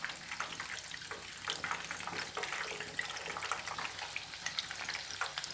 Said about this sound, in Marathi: आपल्याला पनीर गोल्डन ब्राऊन कलरवर तळून घ्यायचं आहे.